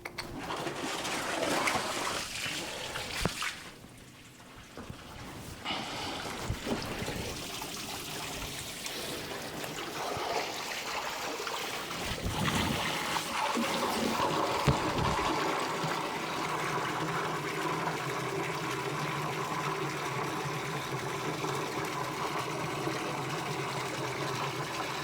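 Submersible sump pump running in a sump pit, a steady rushing and trickling of water that holds continuously at moderate loudness with some splashing early on, no voices.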